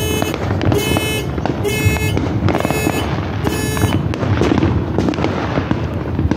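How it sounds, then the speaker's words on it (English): Fourth of July fireworks burst down the street in a rapid series of sharp crackling explosions, some at regular intervals with fizzing sparkle, loud but somewhat distant, with no talk. "Down the street over there where they were doing the fireworks,"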